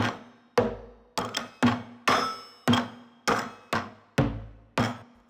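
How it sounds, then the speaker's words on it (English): A hollow bucket is struck about ten times in an uneven rhythm, each sharp hit ringing briefly with a low resonant tone before fading. "Pretty standard bucket. Let's go see what the bucket sounds like."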